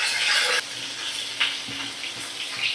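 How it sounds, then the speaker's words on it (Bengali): Eggplant and potato pieces sizzling in hot oil in a pan over a medium flame, a bright hiss that swells and fades with occasional stirring bursts, close and steady with no voices. "এবার ভালো করে আমি বেগুন আর আলু ভাজা করে নেব। মিডিয়াম ফ্লেমে রেখে ভাজা করছি।"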